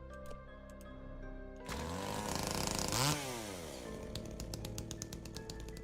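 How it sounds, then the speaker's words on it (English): A chainsaw sound effect in a Koopa Matt video game: a low engine idle revs up into a loud, rising whine that peaks and drops away before settling back into a rattling idle under faint game tones. "Koopa Matt just went outside and held a microphone up to a chainsaw."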